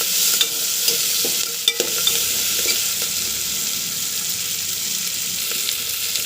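Chopped tomatoes fry in a pan for a bean curry, giving a steady bright hiss of sizzling oil that stays even and close, broken early on by a few soft knocks from stirring.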